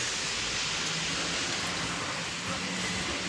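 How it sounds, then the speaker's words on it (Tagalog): Heavy rain pouring in Unaizah, Saudi Arabia, outside a hospital, a dense, steady hiss of water falling without pause, loud and close, no voices. "Ang lakas ng ulan"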